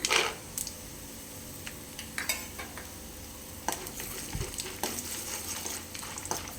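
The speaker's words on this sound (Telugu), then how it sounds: "ఇవి బాగా ఫ్రై అయ్యేదాకా చూసుకోవాలండి" Soft crackling sizzle of peanuts, lentils and cumin frying in a pan for semiya upma, with scattered clicks and scrapes of stirring, quiet and close.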